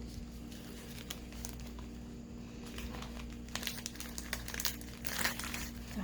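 A plastic bag holding holographic glitter is handled close by, with soft, quiet crinkling that grows into denser, louder rustles and crackles toward the end.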